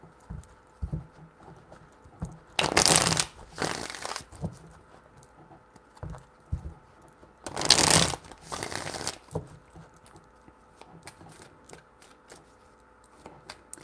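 Tarot cards being shuffled by hand in two short bursts of crisp riffling, each about two seconds long and several seconds apart, with quiet handling clicks and rustles in between and no talk.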